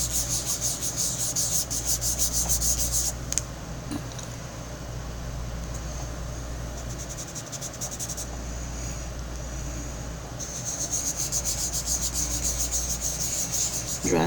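Rhythmic scratchy rubbing on a surface to create an aged background effect, steady rapid strokes in bursts with a quieter stretch in the middle, close up and alone.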